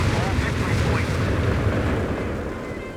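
Incendiary or frag bombing explosions in Company of Heroes 3, a 2v2 match, as a dense, continuous rumbling barrage of booms filling the whole stretch, loud and steady before easing slightly at the end.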